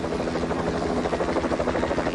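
Helicopters during the 1975 evacuation of Saigon, a steady, loud rotor drone with a dense, continuous chop that holds without a break and carries no voices.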